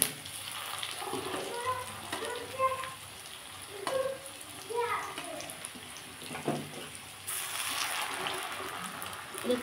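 Bengali poppy seed fritters (posto bada) frying in hot oil give a steady, close sizzle, with scattered small clinks and stirring noises throughout.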